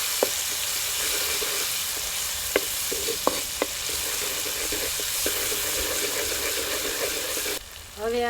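Crushed ginger, chillies and garlic sizzle loudly in hot oil in a home kitchen. A dense, steady crackle is punctuated by a few spoon clinks, and a brief change in the sound comes near the end.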